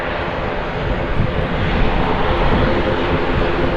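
Loganair ATR 42 turboprop at Manchester Airport, its engines producing a loud, steady, broadband roar that holds close and constant throughout, with no talk over it.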